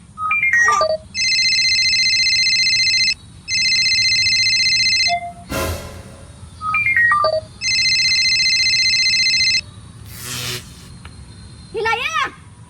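A phone is dialed with quick keypad tones, then a two-tone ringing pattern repeats loudly in long bursts, with a couple of short noisy clatters and another burst of dial tones between them.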